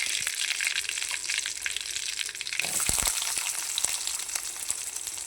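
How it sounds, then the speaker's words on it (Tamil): Sliced onions fry in oil in a pan for prawn thokku, giving a steady bright hiss with scattered pops and crackles, close up, louder after a brief stir partway through. "வெங்காயம் நல்லா வதங்கி வரட்டும்."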